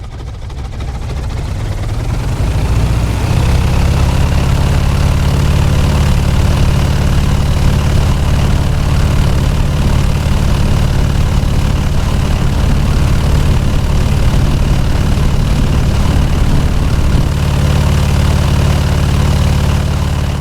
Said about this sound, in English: R670-5 7-cylinder air-cooled radial engine,